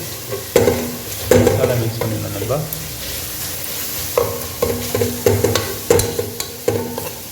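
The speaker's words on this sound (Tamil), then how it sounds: "ஜீரகம் பச்சை மிளகாய் எல்லாத்தையும் போட்டோம்" Cumin, fennel seeds and green chilies frying in a pan, a hissing sizzle punctuated by repeated sharp scrapes and knocks of a spatula stirring, close and fairly loud without talking.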